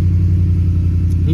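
A 2010 Ford F-150 engine idles close and loud with a deep, even rumble that holds steady throughout this brief moment.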